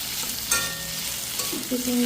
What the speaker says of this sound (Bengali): পোস্ত দিয়েছি, নুন দিয়েছি, হলুদ দিয়েছি, হালকা একটু চিনি দিয়েছি। এটাকে ভেজে নেব।